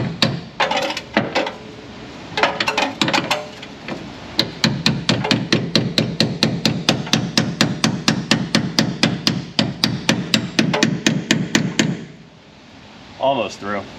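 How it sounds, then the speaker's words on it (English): Rapid, regular hammer blows ring out dozens of times in a steady rhythm, close and loud, after a few scattered knocks at the start, driving a bolt into position on a rusty Chevrolet Silverado 5.3 with broken springs. "Oh, come on. Hammer time."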